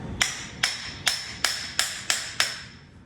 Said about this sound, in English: So we'll try the framing hammer first.